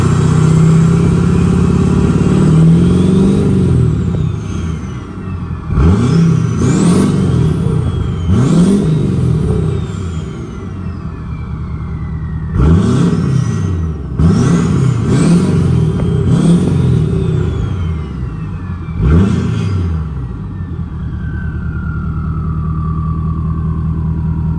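Powerstroke diesel with a new compound turbo, revved repeatedly in short loud bursts with turbo whistle spooling up and trailing off between blips, idling steadily in between.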